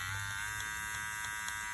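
A cheap hair trimmer bought on Amazon runs at speed setting 60, giving a steady high-pitched electric whine and buzz held at an even level, close and alone.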